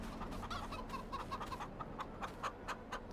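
Chickens clucking on a farm in Farming Simulator 22, with repeated soft clucks in an irregular rhythm over a quiet background, no talk.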